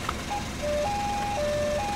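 A custom car's external loudspeaker plays a simple electronic jingle of steady held tones stepping between a few pitches, loud and continuous, with no talking over it.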